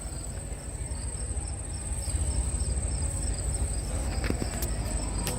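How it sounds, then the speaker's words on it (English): Recorded crickets played from speakers in the grass aboard the cruise ship Allure of the Seas chirp continuously in a high, steady pulsing trill, moderately close, over a low background hum with a few faint clicks. "crickets coming from speakers down in the grass to give you the feel that you're outside"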